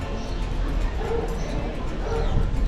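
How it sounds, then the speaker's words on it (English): Several dogs bark on a seaside boardwalk walk in Mazatlan, Mexico, sharp yaps popping up over steady wind and street noise, moderately near, while a person talks. "A lot of dogs barking."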